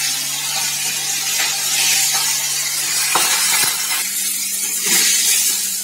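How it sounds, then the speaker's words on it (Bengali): Pona fish shallow-frying in hot oil in a pan, a steady broadband sizzle throughout with a few soft clinks and stirring knocks near the middle, close and fairly loud with no talking. "পরের মাছগুলিকেও ঠিক সেম এইভাবে ভেজে নেব।"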